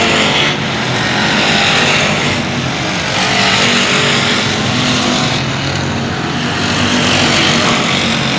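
Race cars roar around a dirt speedway at the Cotton Bowl Speedway Showdown, engines droning loud and continuous with swelling passes as the pack circles by.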